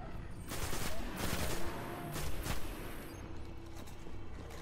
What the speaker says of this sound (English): That thing rapid fires like a machine gun.